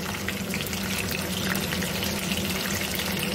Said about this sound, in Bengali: বাকি চিকেনগুলো এভাবে আমি দিয়ে দিলাম, এভাবে ফ্রাই করে নিচ্ছি।